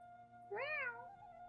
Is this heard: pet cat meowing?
yes